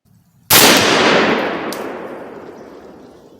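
A single loud rifle shot from a .338 Federal DPMS rifle fired while deer hunting outdoors. It cracks sharply and then rolls away in a long, fading echo over about three seconds.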